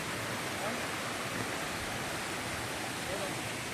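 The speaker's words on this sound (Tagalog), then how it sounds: "Ayan yung falls." Inlagadian Falls gives a steady, dense rushing roar of falling water that holds unbroken throughout.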